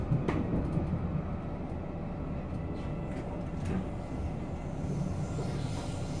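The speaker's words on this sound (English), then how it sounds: "It's a South Western Railway train to Waterloo" A South Western Railway class 458 electric train runs toward London Waterloo, heard from inside as a steady, even rumble and hum of wheels on track with occasional faint clicks and rattles.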